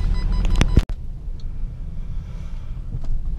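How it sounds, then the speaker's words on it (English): A VW Touareg engine idles smoothly at about 700 rpm, a low steady rumble throughout, with a brief louder clunk near the start and no voices. "This car runs very smoothly, idling at about 700 revs"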